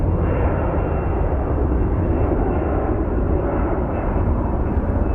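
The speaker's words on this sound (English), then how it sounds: "CRJ departing." A CRJ regional jet departs Phoenix Sky Harbor with a loud, steady engine roar that holds evenly throughout, broadband and continuous, with no talk over it.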